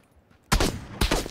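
Gunfire in the video game PUBG: after a quiet moment, two loud bursts of rapid shots crack in close succession, harsh and near, with a third starting at the very end.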